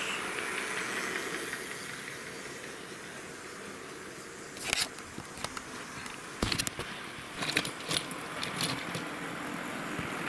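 Steady hissing hum of a small motor, broken by a few sharp clicks and rattles, like a toy train rolling and clattering over track joints.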